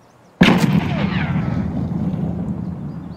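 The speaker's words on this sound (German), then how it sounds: "Granate?" A grenade goes off in Escape From Tarkov with a sudden sharp, loud blast after near silence, then a long rumbling decay that fades slowly over a few seconds.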